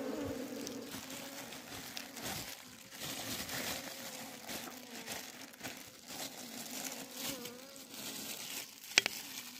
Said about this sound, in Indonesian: kalau sarangnya udah jatuh, lebahnya mulai berterbangan teman-teman